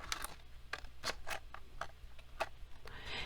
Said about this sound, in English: We're going to take out our scissors and we're going to trim off the excess from this frame.